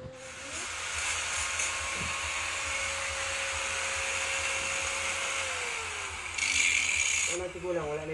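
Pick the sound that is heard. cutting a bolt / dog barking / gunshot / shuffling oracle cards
cutting a bolt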